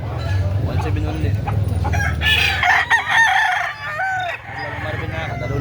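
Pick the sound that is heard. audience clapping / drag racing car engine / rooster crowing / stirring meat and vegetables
rooster crowing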